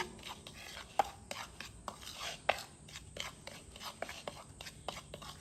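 Spice ingredients, black salt among them, are stirred together for a tomato chips masala, making soft, close scraping and rubbing strokes with occasional light clicks in a quiet, repeating rhythm.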